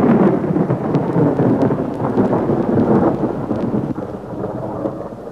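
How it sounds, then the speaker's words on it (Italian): Thunder rumbles loudly and continuously for several seconds, a dense low roar that fades slightly toward the end, heard alone without voices. "si trattava solo di un tuono"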